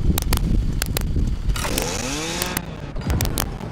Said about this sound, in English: I want to hit someone with this chainsaw from miles away.